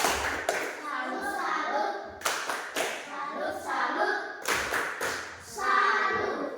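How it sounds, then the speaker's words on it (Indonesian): A classroom of students claps a rhythmic salute for group 1 in several sharp, close bursts of hand claps and thumps, with a teacher and children talking between the clapping. "Tepuk salut guys kelompok 1 dulu."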